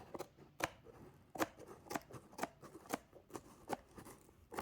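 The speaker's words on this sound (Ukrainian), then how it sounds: "Ну, нарешті відкрили посилочку." A tape-sealed postal parcel being opened, heard as a series of sharp, close snips and cuts through packing tape and cardboard in an irregular rhythm, with quiet rustling between them.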